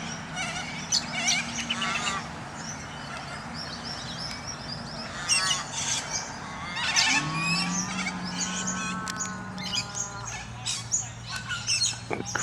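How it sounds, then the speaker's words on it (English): A crow calling among Perth birds, loud harsh honking caws repeated several times from close by, mixed with chattering bird calls and distant traffic. "crow making a noise on my right"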